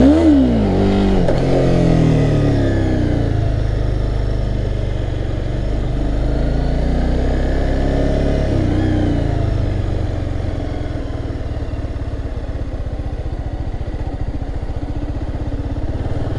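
A Honda CBR300 motorcycle revving during wheelie practice, the engine rising in sharp pitch sweeps near the start and again midway, then settling into a loud, steady drone close by with wind rush and no talk.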